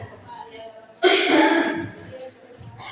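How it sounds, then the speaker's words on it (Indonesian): A woman coughs once, loudly and close, in a classroom, with a short harsh burst and a fading tail, between stretches of quieter room sound and faint voices. "karena ibu banyak batuknya ya dari tadi"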